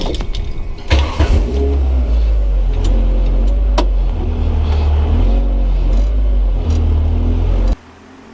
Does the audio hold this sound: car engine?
yes